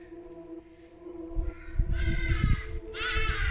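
Harsh, raucous hadeda ibis squawks ring out in two loud bursts, with a low rumbling thud and clatter underneath, outdoors during detailing of a 2013 BMW 320.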